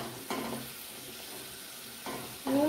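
Potatoes fry in hot oil with a close, continuous sizzle that swells in brief bursts, likely as the pieces are stirred or turned. No one speaks.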